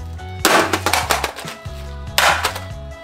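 A frying pan smashes a vase with two loud, sharp crashes about two seconds apart, each followed by a scatter of clattering fragments, heard close up over a low background.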